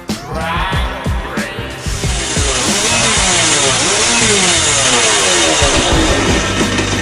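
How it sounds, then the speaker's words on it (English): A car engine revs hard at an illegal drag race, a loud, close, continuous roar with revs surging and falling and no voices heard. "Who doesn't love some illegal drag races?"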